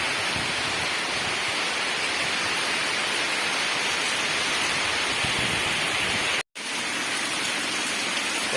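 Heavy rain pours down on a village in Sawantvadi, Konkan, a dense, steady hiss of falling water that fills the whole scene, broken only by a brief dropout near the end.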